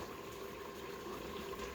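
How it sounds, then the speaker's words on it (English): Chili sauce bubbles in a pot, a steady, continuous low simmering and gurgling hiss that stays even in level throughout, with no talking. "you can hear that sauce is bubbling away nicely"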